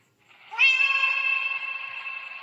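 A single loud, sustained cat meow from a Minecraft game, rising quickly and then tailing off slowly, with nothing else heard.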